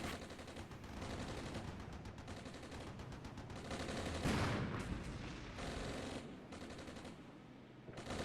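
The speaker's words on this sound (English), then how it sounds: "Ready to fire for effect and get the mortars laid in." Mortar and gunfire in the Armored Brigade war game form a dense, continuous barrage of rumbling blasts and rattling shots, with a heavier impact swelling near the middle and no talk.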